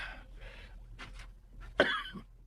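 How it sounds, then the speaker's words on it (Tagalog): A man coughs hard after playing basketball with a sore throat, one strong cough burst standing out among softer breathy throat sounds nearby. "Gipugos man nimo og ubo og maayo."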